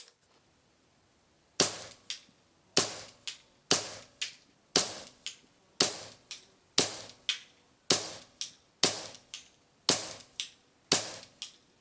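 Ten or so sharp air rifle shots, a Weihrauch HW77 or Air Arms TX200, fired at a target at a steady pace, each crisp crack followed by a short thump and decay, close and alone after a quiet opening.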